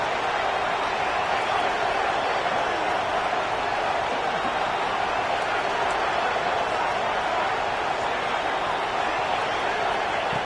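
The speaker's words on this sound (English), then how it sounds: "this crowd is ready." Steady, dense stadium crowd roar from a college football game in NCAA 25, a continuous wash of massed voices holding at an even level for the whole stretch with no distinct breaks.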